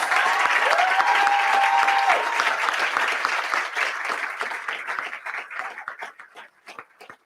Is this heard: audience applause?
yes